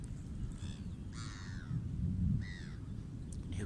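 Crows caw out by the sea, several separate harsh calls spaced apart across a few seconds, clear and moderately near over a low steady wash of surf and wind.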